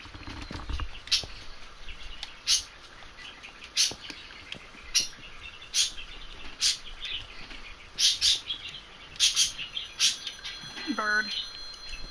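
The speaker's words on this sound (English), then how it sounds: "Bird." Minecraft birds chirp in short, bright bursts repeated every second or two over a low ambient bed, with a brief rising tone near the end.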